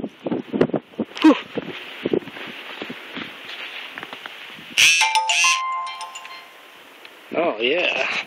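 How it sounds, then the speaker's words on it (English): Short electronic notification tones from a cell phone chime out clearly midway, with a held tone after them, during a snowy blizzard in Colorado Springs with wind noise and footsteps in the snow. A person talks before and after. "Oh yeah, text message time."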